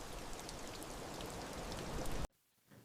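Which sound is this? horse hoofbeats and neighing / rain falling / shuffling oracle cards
rain falling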